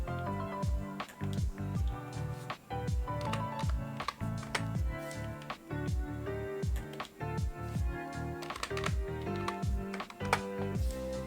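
Steady, rapid keystrokes rattle across the clip, clicks tapping in quick irregular bursts at close range with no voices, as someone types on a computer keyboard while building traits in Halo Infinite Forge.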